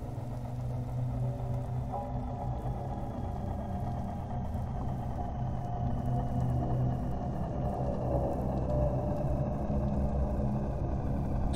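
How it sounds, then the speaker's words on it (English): Light storm in the game Vintage Story: a steady, low rumbling wind drone with a soft airy hiss, even and continuous throughout with no talking. "It's only a light storm."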